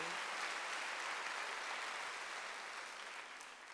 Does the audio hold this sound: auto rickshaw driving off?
no